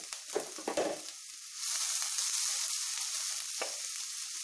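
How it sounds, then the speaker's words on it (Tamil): Sliced big onion and green chillies hit hot oil with a few crackling spits, and then a steady, fairly quiet sizzle settles in and holds to the end. "கொஞ்சம் ப்ரௌனிஷ் ஆகிற வரைக்கும் நல்லா ஃப்ரை பண்ணிடலாம்."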